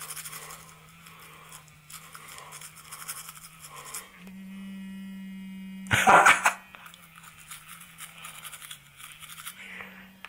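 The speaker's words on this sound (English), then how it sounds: "So this is the way to use the toothbrush." A battery-powered vibrating toothbrush buzzes as a steady low hum for about two seconds, nearby and fairly loud, followed by a short scraping burst and a softer ongoing buzz.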